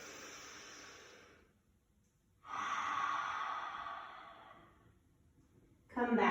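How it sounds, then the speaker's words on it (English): Slow, audible breathing during a yoga class: a long exhale, a pause of near silence, another drawn-out breath, then a sharper intake at the end, close and fairly soft. "Inhale. Exhale."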